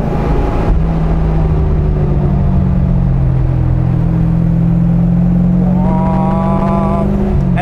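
A 1973 Chevrolet Corvette Stingray with a 454 big block V8 and four-speed manual, driven on a winding road: a loud, steady engine drone that lifts in pitch near the end, heard from inside the car with no talking.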